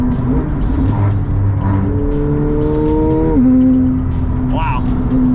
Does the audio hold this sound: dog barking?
no